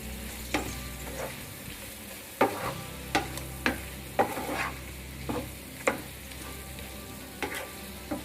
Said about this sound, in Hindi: इसे मसालों के साथ आलू और प्याज को अच्छे से मिक्स कर देंगे हम